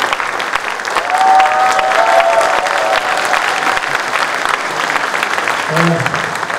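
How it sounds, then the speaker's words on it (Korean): Audience applause at a junior youth orchestra concert fills the hall, a steady dense clapping that runs throughout, with a few voices and a brief tonal sound rising over the crowd near the end. "미리 박수를 받았기 때문에"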